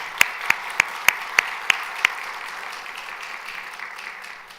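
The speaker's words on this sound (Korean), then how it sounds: "감사하다고 우리 박수 한번 쳐드리십니다" A church congregation applauding: a handful of sharp, evenly spaced claps ring out first, then a steady wash of clapping that slowly fades.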